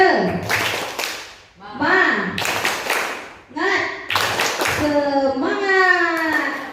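A class of children claps together in rhythmic bursts in a loud, close classroom, with the clapping mixed with their chanting voices.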